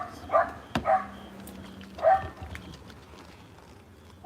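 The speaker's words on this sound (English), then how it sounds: "there's like a crazy ass dog barking in the back" Dog barking in the background, a few sharp barks in two short bursts, moderately distant over quiet room noise, with no talking.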